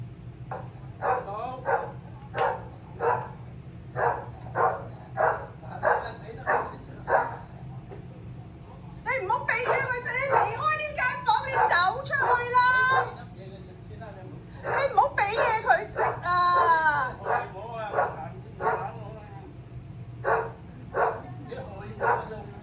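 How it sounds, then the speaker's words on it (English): An enraged Cocker Spaniel barks in a steady run of sharp, loud, evenly spaced barks, then breaks into frantic yelping and whining bursts with voices mixed in, before returning to rhythmic barking. "So, Cocker Spaniel in a rageful state."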